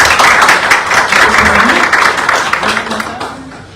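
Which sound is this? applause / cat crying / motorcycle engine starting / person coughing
applause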